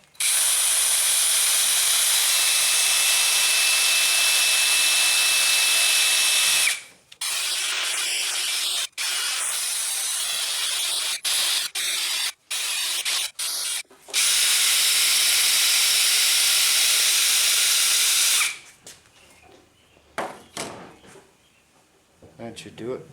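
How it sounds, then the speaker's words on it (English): A small wire wheel grinds against a lawn mower axle shaft clamped in a vise, giving a loud, steady abrasive whir in long bursts broken by brief pauses, then tapering to quieter handling noises at the end. "I'm just going to use a little wire wheel,"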